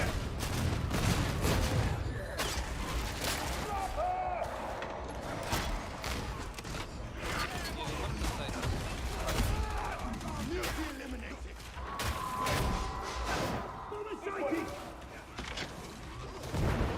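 Rapid video game gunfire crackles in dense bursts across the whole stretch, loud and continuous, with booms and mechanical clatter mixed in and a voice speaking over the action.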